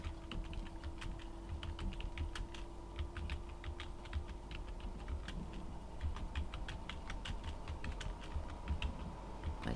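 Steady typing on a computer keyboard, close and fairly quiet: a continuous patter of light key clicks over a low background hum, with no one talking.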